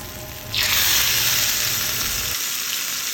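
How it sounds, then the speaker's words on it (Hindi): A sudden loud sizzle bursts out as curry leaves hit hot oil for tempering kadhi, then settles into a steady, bright crackling fry that continues to the end. "7 से 8 कड़ी पत्ते ले लिए थे और अच्छे से कड़का के लगाएंगे तड़का"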